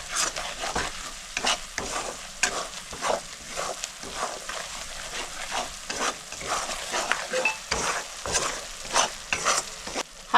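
Spices being stirred and fried in a pan while making rui fish korma, ground cumin, coriander and turmeric mixed in oil, with a steady close sizzle broken by repeated scraping strokes of the spoon throughout.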